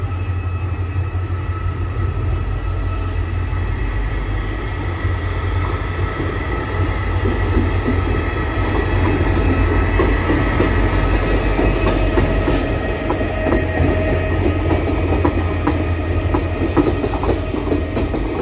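A passenger train running from New Bongaigaon toward Guwahati rumbles steadily along the rails from inside the carriage, with continuous clickety-clack, a faint wheel squeal and occasional rattles, and no talk.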